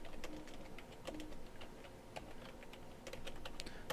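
Fingers tap out a short burst of typing on a computer keyboard, giving quiet, quick, slightly uneven key clicks at close range in an otherwise still room.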